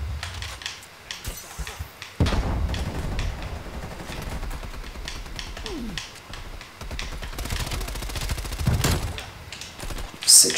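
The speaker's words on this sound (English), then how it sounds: "Six shots, I need to reload." Gunfire in a Cold War shooter video game: rapid, loud shots and bursts, some like a fusillade, mixed with game noise over about ten seconds, with no speech.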